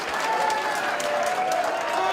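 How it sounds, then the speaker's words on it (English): A wrestling crowd at a cage match roars with steady, dense cheering and applause that fills the whole stretch without a break. "Listen to this crowd. They want Mike to climb."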